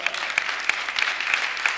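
A small group of clients at a wealth summit claps unevenly for a couple of seconds, the hand claps fairly close and scattered rather than thunderous.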